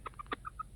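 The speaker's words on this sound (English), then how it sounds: "That was a good rooster though." A rooster gives five short, sharp clucks in an uneven rhythm, close by and moderately loud, with no talking.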